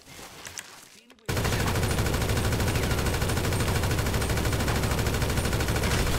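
Grand Theft Auto V gunfire: after a quieter moment, a loud unbroken burst of rapid automatic fire kicks in and hammers on for about five seconds, close and dense, with no talk over it.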